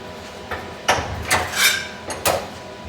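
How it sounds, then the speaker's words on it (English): Sheet metal for a Porsche 911 body is bent in a brake, giving a few sharp metallic clunks and knocks at uneven intervals, close by over a quiet room hum. "I'm gonna put it in the brake first. Just a little bit of a start, nothing crazy."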